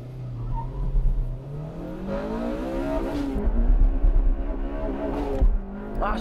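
A Honda Civic Type R and an S2000 launch off a race start on a track, their engines loud and climbing steadily in pitch as they accelerate, with revs rising and overlapping.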